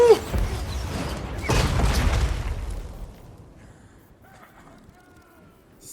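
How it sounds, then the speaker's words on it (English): Cannons boom in a Warhammer video game battle, with a heavy rumbling blast rising and rolling for a couple of seconds before fading into quieter battle noise. "Cannons, fire!"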